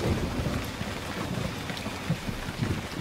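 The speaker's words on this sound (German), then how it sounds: "Es regnet, die Erde wird nass." Steady rain pours with low rumbling thunder beneath it in the video game Emergency 4, a dense continuous wash of sound with no voices.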